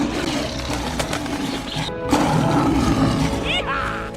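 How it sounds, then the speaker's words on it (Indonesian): Animated lion cubs roaring in The Lion King II film, a sustained layered roar with music and a brief crash, loud and continuous throughout. "Sampai tiba-tiba terbesitlah ide untuk menyuruh Kiara dan Kofu mengaum"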